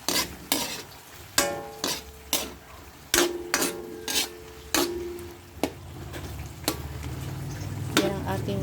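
White onions frying with chicken in a hot pan, a steady close sizzle broken by repeated sharp scrapes and clacks of a utensil stirring against the pan.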